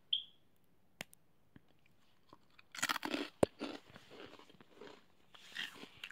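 Hard, thin citrus-flavored snack sticks shaped like little french fries being bitten and chewed close to the mic, a burst of loud crisp crunches followed by quieter scattered chewing crunches, with no talking.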